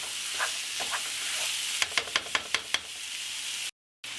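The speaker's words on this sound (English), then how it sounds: "So I'm going to break it up, stir it up, cook it up for about 5 minutes." Ground meat browning in a pot for taco spaghetti, a steady close sizzle with scraping stir strokes and a quick run of sharp knocks from the spoon against the pot, then a brief cut to silence.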